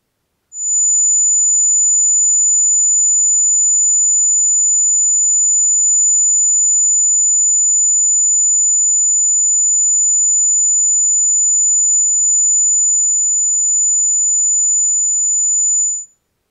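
A steady, piercing high-pitched test tone at 6996 hertz sounds loud and alone, starting abruptly and holding level for about fifteen seconds before cutting off.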